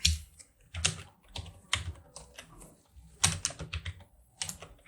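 Rapid typing on a computer keyboard at close range, with dense irregular key clicks in bursts and short pauses between them, and no voices.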